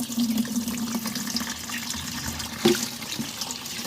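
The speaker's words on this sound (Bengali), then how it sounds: "এইটাকে বালতির মধ্যে এইভাবে ঢেলে দেবেন" Water from a chicken waterer is poured into a bucket, a steady close splashing stream that runs the whole time, with one brief knock partway through.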